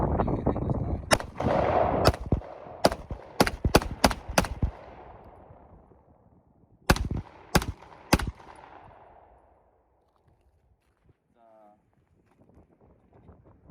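Shots from a Glock 48 MOS pistol fired at a target, a rapid string of about eight sharp, loud reports at an uneven pace, then a pause and three more spaced shots, with wind noise around them.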